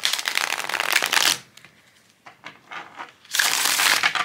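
Crisp riffling and slapping of stiff, super glossy tarot cards being shuffled, two loud bursts separated by a quieter pause with a few soft taps.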